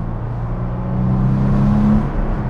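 A 1997 Porsche 993 Carrera 4S with low mileage driving on a country road, its engine humming steadily from inside the car and swelling briefly under throttle before easing off.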